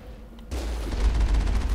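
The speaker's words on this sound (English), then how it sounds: "You fire your missiles at me." A dense burst of missile fire in the video game Mass Effect opens abruptly and keeps up a loud, rapid, rumbling barrage of shots and blasts aimed at the player.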